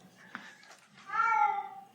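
A pet cat named Matilda gives a short chirp, then a drawn-out, clear meow close by, with quiet room background and no talking.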